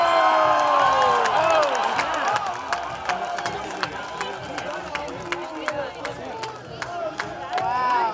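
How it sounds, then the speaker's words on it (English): A crowd cheers and claps at an outdoor kinetic sculpture race in Lowell, loud and lively, with whoops, shouts and scattered sharp claps plus speech-like voices mixed throughout. "The crowd roaring their approval when Nick stepped up."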